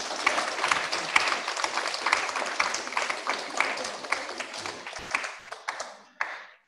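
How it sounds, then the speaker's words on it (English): An audience at a human rights film festival applauds steadily for about six seconds, the dense clapping fading out near the end with a last few scattered claps. "Can we have another round of applause to Mia for those wonderful, sweet sound?"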